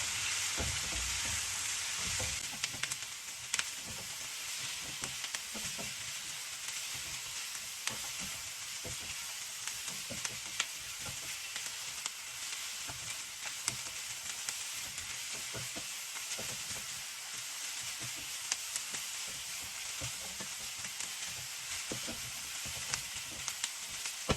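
Vegetables and seafood stir-fried in a wok, with a dense, unbroken sizzle running throughout and frequent small scrapes and taps from stirring, close-up and steady with no speech.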